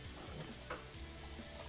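Dosa batter sizzles and hisses on a hot stone tawa, a steady close crackle with no voices.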